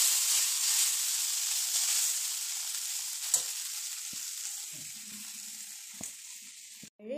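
Egg Maggi noodles frying in a pan, a steady close hissing sizzle with occasional scrapes and taps of a stirring spoon, fading out near the end, no talk.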